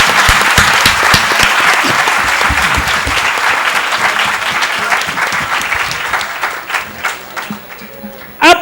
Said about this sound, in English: Can we have a thunderous applause?